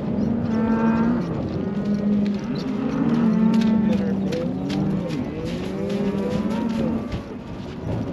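Cattle moo repeatedly during a ranch roundup, with long, overlapping lowing calls from several animals that carry on nearly without pause, some near and some further off.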